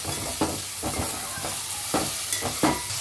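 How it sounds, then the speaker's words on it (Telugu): Curry leaves frying and being stirred in a pan for Telangana-style chicken bagara rice, a continuous close sizzle broken by several quick scraping stirs. "గోల్డెన్ బ్రౌన్ వచ్చేంత వరకు ఫ్రై చేసుకోవాలి."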